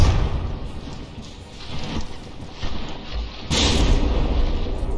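Battleship guns fire in the naval combat game From the Depths, a loud, continuous stretch of rumbling cannon blasts and booming impacts over a windy roar, swelling again with a heavy burst near the end.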